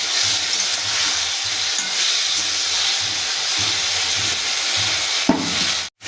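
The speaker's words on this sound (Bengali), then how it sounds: "তো এটাকে একটুখানি কষাবো যতক্ষণ না পর্যন্ত জলটা টেনে যাচ্ছে" Cabbage with fish head sautéing in a pan, a continuous loud hiss and sizzle of frying with scraping stirs now and then, close up and steady throughout, with a brief knock near the end.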